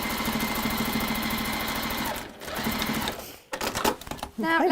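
A sewing machine runs a straight seam along the bottom of fabric in a steady, fast rattling hum, then stops and restarts in short bursts while a person speaks.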